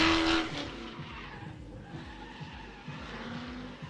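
A drift car throws down tire skids at a nighttime drift and stunt show, with a steady engine roar and repeated rhythmic tire pulses from the arena, loud at first then settling to a sustained background level.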